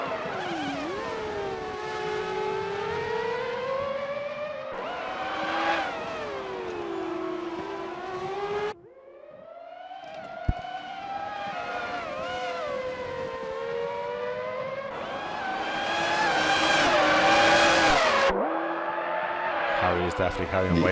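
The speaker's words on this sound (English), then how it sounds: "Oh, the echo of these cars." Formula-style race cars scream past on a circuit one after another during an exhibition event, their high engine notes rising and falling with strong echo, loud and close with brief gaps between passes.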